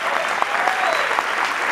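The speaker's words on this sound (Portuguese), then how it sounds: "Aplausos pra ele, por favor." Audience at a musical documentary premiere clapping loudly, a dense continuous burst of many hands close and alone.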